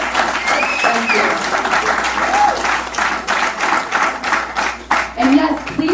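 Audience applause at a benefit gala, a steady wash of clapping from a crowd that holds for several seconds, with voices talking over it.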